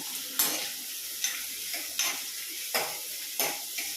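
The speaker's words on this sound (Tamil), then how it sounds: "வெங்காயம் நல்லா ஒன்று சேர வதங்கி வரணும்" Onions sauté with urad dal, fenugreek seeds and curry leaves in a pan for a lentil dumpling kuzhambu, giving a steady bright sizzle with about five evenly spaced stirring scrapes, close and without voices.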